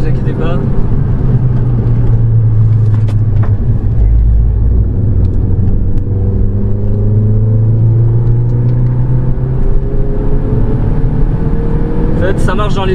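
A Renault Clio 3 RS engine hums and rumbles from inside the car as it drives, pitch rising slowly through the revs past 4000 rpm, with someone talking throughout over the steady drone.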